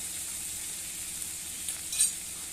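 Onions fry with green chili paste in a pan for a jackfruit dish cooked with mutton fat, a quiet, even sizzle with a brief soft stir or clink near the end.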